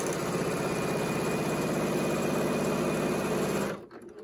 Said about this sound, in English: I don't lock the stitch at the cut on this one because we'll be sewing right over it here shortly